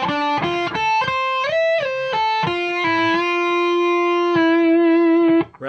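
A slow electric guitar arpeggio sustains one clear note after another, with audible slides and bends between pitches, played alone with a steady tone and a long final note that cuts off at the end.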